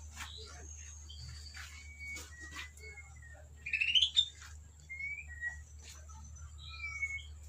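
White-rumped shamas at a breeding farm, scattered thin chirps and whistled notes, one louder rising call midway, over a steady low hum.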